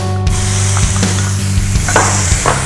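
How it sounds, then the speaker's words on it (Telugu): Small cut pieces of chicken hit a hot pan and sizzle loudly and continuously, close up, with a spatula scraping and stirring through the hiss and a low hum under it. "ఇదే ప్యాన్లో మనము చికెన్ చిన్న చిన్న ముక్కలుగా కట్ చేసుకున్నాం కదా, అది వేసుకుందాం."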